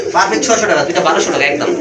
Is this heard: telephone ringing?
no